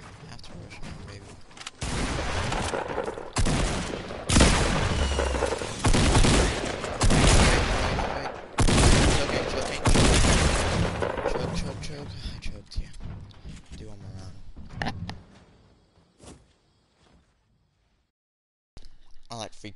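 Bursts of video game gunfire and explosions, loud, repeated blasts and rattling volleys over roughly fifteen seconds, then fading to near silence.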